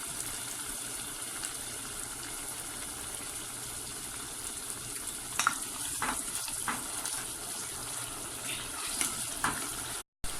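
A pepper mixture with fresh and canned tomatoes fries in a pan for an egg stew, giving a steady, even hiss throughout with a few faint clinks and stirring scrapes.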